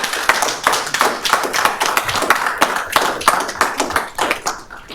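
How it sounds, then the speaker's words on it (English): A crowd claps for a city employee at a budget hearing: a short burst of individual hand claps, close and fairly loud, with an irregular rhythm of distinct slaps rather than a dense roar. "So you deserve a round of applause"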